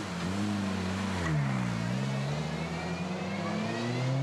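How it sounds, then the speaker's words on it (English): A VW Fun Cup race car at Spa pulls into the pit lane, its engine droning loudly and steadily, the pitch dipping as it slows before settling into a sustained hum, with a commentator talking over it. "This is the 11 car coming into the pit lane."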